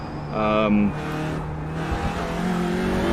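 A touring car in a racing sim laps the VLN circuit in daylight, its engine droning steadily close-up, with a higher whining rev early on before settling into a sustained mid-pitched roar.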